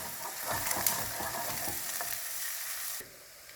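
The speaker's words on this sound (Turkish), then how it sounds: "Havuçlarımızı da biraz kavurduk" Carrots for Uzbek pilaf sauté in a pan with a close, steady sizzle and quick stirring scrapes, and the sound drops away sharply near the end.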